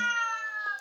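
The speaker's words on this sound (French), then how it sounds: "Il y a un chat tout près, qui ne me lâche pas des yeux." A single close cat meow, clear and tonal, drawn out for under a second and tapering off at the end, with nothing else around it.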